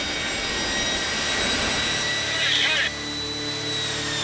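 A jet engine blows tornado-strength wind in a steady, loud, roaring blast, with a brief surge near the end before it eases slightly.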